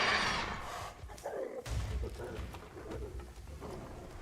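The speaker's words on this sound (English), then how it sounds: "He just aggroed the big bird." A big bird monster in the dungeon game Dark and Darker, with a cooing, breathy call and low thuds amid game ambience, moderately close, with faint talk in the background.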